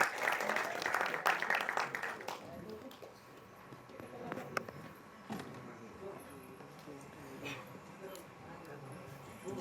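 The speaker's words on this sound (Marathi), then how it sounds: "जोरदार टाळ्या संभाजी ससाणे यांच्यासाठी आणि शीतल पाटील साठी सुद्धा" An audience claps at the Marathi film Rubaab trailer launch, with loud applause for the first two seconds before it fades into quieter hall sounds and a voice.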